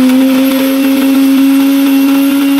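A blender grinds spice paste for Sundanese laksa, a loud, steady motor whine holding one pitch throughout and cutting off at the very end.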